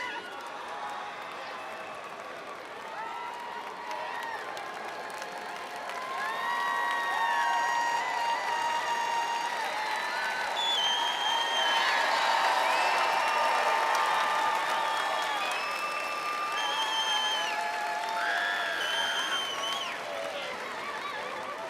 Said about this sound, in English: Let's give him one more round of applause, shall we?